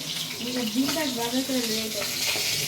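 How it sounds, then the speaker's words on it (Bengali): Pieces of katla fish fry in a pan on a gas stove in a home kitchen, giving a steady sizzle. A faint voice hums or talks briefly underneath. "এদিক দিয়ে কাতলা মাছ বেজে নিতেছে"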